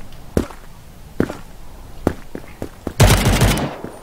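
Video game gunfire in a one-on-one match, heard as several sharp single shots spaced apart and then a loud, rapid burst of automatic fire at the end, close and punchy.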